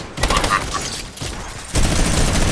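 Rapid gunfire in the video game Fortnite: a sustained, loud stream of shots that rattles on across the whole moment, with a brief lull and then a heavier, denser burst near the end.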